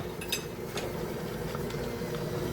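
Spoon scraping sticky peanut butter and powdered sugar mixture from the sides of a bowl near a mixer beater, a steady close rasping with light clinks of metal on the bowl.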